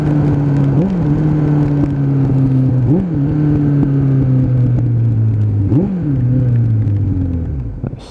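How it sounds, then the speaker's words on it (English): A Suzuki Bandit 600 motorcycle with a carburettor issue, its engine droning steadily nearby and blipped in three short revs, heard alone with no talk. "Suzuki Bandit ride test, almost completed. One very, very wet rev bomb."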